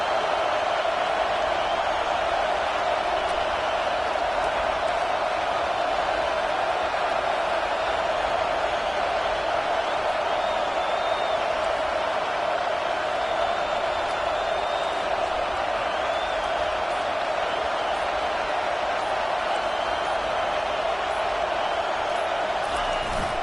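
Stadium crowd cheering at a football game, a continuous wash of massed voices that stays constant and moderately loud throughout, with no single shouts standing out.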